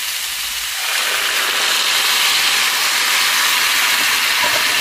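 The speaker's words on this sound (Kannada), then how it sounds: "ಒಂದು ಲೋಟ ನೀರು ಹಾಕಿದ್ದೀನಿ ನಾನು" A glass of water is poured into a hot pan of beans with tempering, bursting into a loud, close, sustained steamy hiss that swells after the first second and holds steady.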